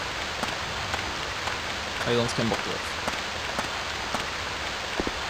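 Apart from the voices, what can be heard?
rain in video game Stranded II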